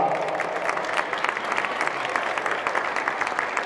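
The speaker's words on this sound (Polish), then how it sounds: "Duże brawa dla zespołu z Tarnowa." Crowd claps for the Tarnovia Tarnów team after a women's U18 futsal championship final, bright individual claps audible within a lively, fairly close burst of applause that continues throughout.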